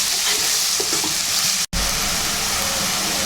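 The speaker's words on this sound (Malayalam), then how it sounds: "ഇനി ഈ ഉള്ളിക്ക് ഇതിനാവശ്യമായ ഉപ്പ് കുറച്ച് ചേർക്കാം നമുക്ക്. നന്നായിട്ടൊന്ന് വഴന്ന് വരട്ടെ." Salted onions sautéing in a pan, a loud, even close sizzle with soft stirring scrapes, briefly cut off by a momentary dropout midway before resuming, with no one speaking.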